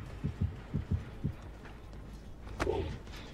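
A heartbeat from the video game Dead by Daylight thuds in low paired beats, two close doublets followed by single thumps, then fades as a brief swelling tone rises near the end.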